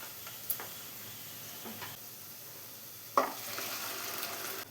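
Cooked vegetables being stirred into a simmering vegetable kurma in a pan, with a soft steady sizzle and a few distinct clinks and scrapes of a spoon, close by, without speech.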